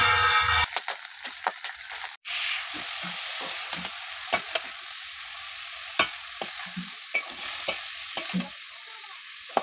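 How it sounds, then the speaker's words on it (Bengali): Garlic and ginger frying together in a pan, stirred steadily: a constant close sizzle broken by irregular scraping clicks from the spoon, with no talking. "রসুন আর আদা একসঙ্গেই নাড়ছি।"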